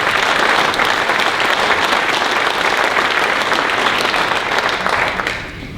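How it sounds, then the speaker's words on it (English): A large room of dinner guests at a volunteer organisation's 50th anniversary awards ceremony breaks into loud, sustained applause, dense clapping that holds steady and then tapers off at the end. "Give yourselves a round of applause."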